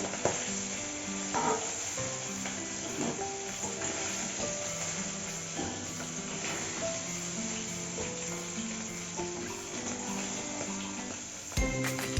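Paneer frying in hot oil for a lauki paneer dish, a steady close sizzle with light scraping and stirring clatter throughout, ending in a brief louder clank.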